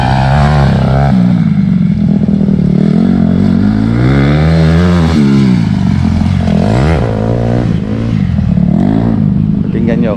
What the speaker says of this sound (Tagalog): Ang sarap pakinggan talaga na sa CRF 150.